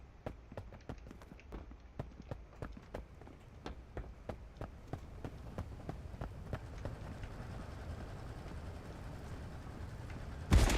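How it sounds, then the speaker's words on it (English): Footsteps of a player character in the video game Marauders, a steady run of evenly spaced soft thuds that are close and moderately loud over low ambient rumble, ending in a sudden louder burst. "the footsteps don't seem to really change pace if you're crouching"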